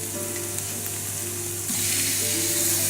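Ginger garlic paste sautés with light golden onions in a pan for paneer masala, a loud, steady close-up sizzle whose hiss swells brighter about halfway through, with no voices.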